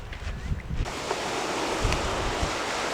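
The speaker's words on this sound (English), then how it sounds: "It's very windy here, but the beach is really nice." Steady wind roars across the microphone with a continuous rush of surf behind it and no voices, on a beach on Paros, Greece.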